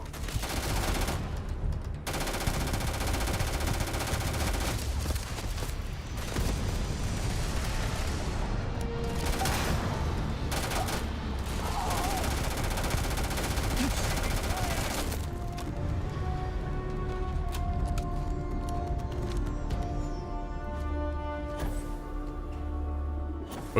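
Sustained gunfire in the space game Starfield, with dense rapid shots and booming impacts during the first stretch, then thinner, scattered bursts over a steady tonal hum, and no talk.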